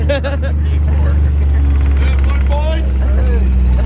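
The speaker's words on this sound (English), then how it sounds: "We are taking a ride in a tractor golf cart thing." A tractor-pulled golf cart ride at a busy Saturday festival, a loud steady low engine rumble and rattling drone throughout, with people chatting and calling out over it.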